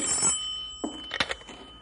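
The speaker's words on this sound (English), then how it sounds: "You want me to get the phone, Bill?" A telephone ringing as a sound effect in an old-time radio drama, one bright bell trill at the start, followed by a few quiet clicks and knocks.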